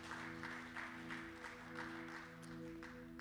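Church congregation applauding steadily at a middle distance, a soft continuous patter of many hands over a low sustained organ-like hum.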